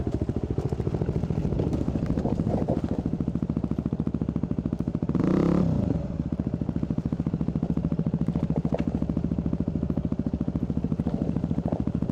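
Yamaha WR250R and KTM trail motorcycles riding down a steep hill trail in the Watagans, engines droning steadily and close throughout, with a brief louder rev or clatter partway through.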